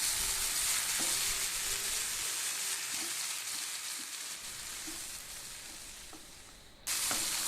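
Tomatoes sizzle steadily in hot oil in a pan for a Malabar-style prawn roast, with a few soft stirring knocks along the way. The frying hiss stays close and fairly loud, then cuts off briefly before resuming.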